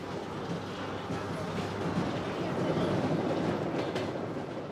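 A train on the Trans-Siberian Railway near Vladivostok rumbles steadily along the tracks, a continuous low roar with faint rattling of the cars, fairly close.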